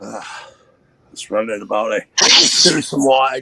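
A single sharp sneeze bursts out mid-conversation, loud and close, with people talking just before and after it.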